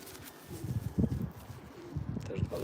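Soft, low cooing of a female racing pigeon in short repeated bursts, close by, with faint background noise.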